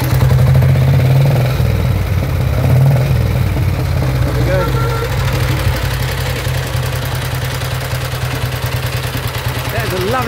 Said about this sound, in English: That is a lovely quiet engine.